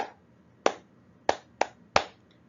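Hands clap four times along to a kids' song, one clap and then three quicker ones, each short, snappy and close by, with no speech.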